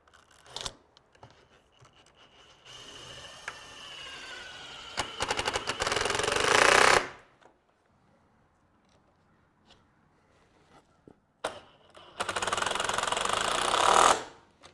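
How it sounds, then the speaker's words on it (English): A power drill or driver runs in two long whirring bursts, each rising and then cutting off, as screws go into the top and bottom of an Integrity sliding French door stationary panel; quiet handling noises fill the gaps. "Now we can go ahead and attach our screws at the top and the bottom."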